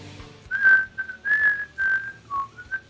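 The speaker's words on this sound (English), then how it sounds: "Oh, I shouldn't whistle." A person whistles a wandering tune close to the microphone, with bright sustained notes broken by brief pauses and sliding pitch changes, and no talking.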